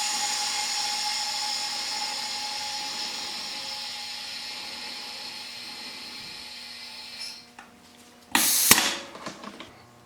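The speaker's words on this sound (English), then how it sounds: "we just pressurize the pot to 50 psi." Pressure pot for casting pen blanks in molds being pressurized to 50 psi: a steady, fading hiss of air that ends, then a short loud burst of venting air with a few trailing clanks.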